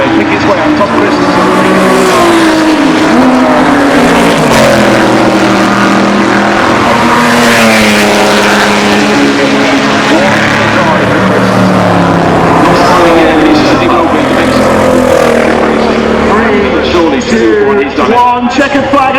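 Historic Ferrari racing cars at the Goodwood Revival Kinrara Trophy race, with engines roaring and shifting pitch steadily while a commentator talks continuously over them.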